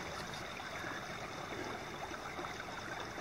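Steady broadband rush of creek water flowing along in early May, a continuous, even wash close by with no talk over it.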